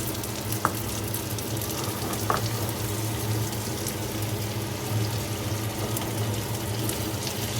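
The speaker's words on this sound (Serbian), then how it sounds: "I sada ću da ubacim piletinu da se malo proprži." Chicken pieces frying in melted butter and olive oil in a pan, a close, steady sizzle with a couple of soft clinks, heard alone.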